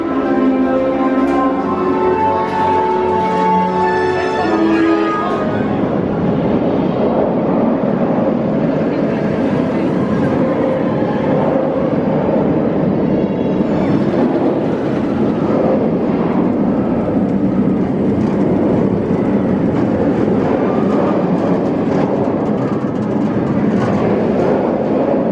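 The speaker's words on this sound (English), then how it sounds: "Awesome front row ride there on Nemesis." Front-row ride on the Nemesis roller coaster at Alton Towers: a loud, unbroken rushing roar of wind and track noise that fills the whole stretch, with rumbling swells as the train races through the course.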